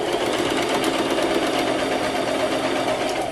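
Sewing machine stitching ribbon trim onto a tutu, a steady fast mechanical whir with rapid needle ticking that runs close and even for the whole stretch, no pauses and no voices.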